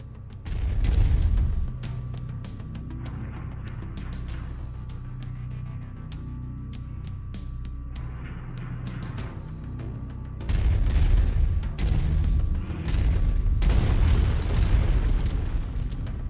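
Long-range missiles fired and exploding in the MechWarrior 5 Mercenaries video game: repeated heavy booms and bursts rolling over a constant low mechanical hum, with a loud cluster of blasts near the start and a dense barrage later on.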